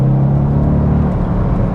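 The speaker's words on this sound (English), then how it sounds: "Oh, that pull from that naturally aspirated V8 is insane" Deep, loud rumble of a Mercedes C63 AMG W204 with its naturally aspirated 6.2 litre V8, heard from inside the car as it pulls hard under acceleration, no talking.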